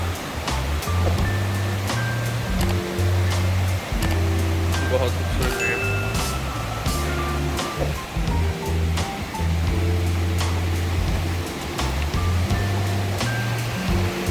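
Continuous rushing water from a stream below Triple Falls in North Carolina, a broad steady roar throughout with someone talking over it and low hum beneath.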